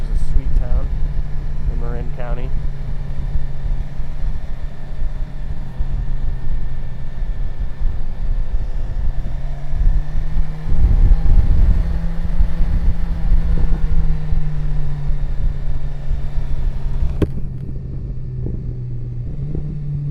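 A BMW S1000XR motorcycle is ridden at low speed through the town of Fairfax in Marin County, its engine a steady low drone with wind rumble and a shift in pitch around the middle.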